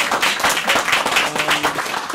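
An audience at a city commission meeting claps steadily and fairly close, a dense patter of many hands that holds for a couple of seconds without any talk.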